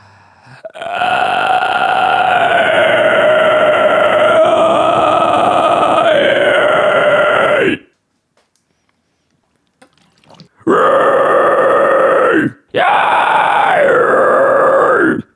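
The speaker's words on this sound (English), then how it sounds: "This type of guttural is so powerful." Deep, gravelly guttural screams held for several seconds, then a pause and two shorter bursts, loud and raw with no other sound.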